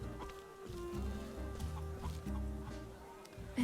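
Chickens cluck repeatedly in a video game, a steady chatter of close fowl calls layered over sustained background music tones.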